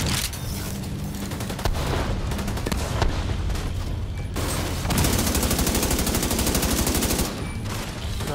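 Machine gun fire in The Division 2 rattles in loud, rapid, continuous bursts, broken by short pauses and layered with other gunshots and booms.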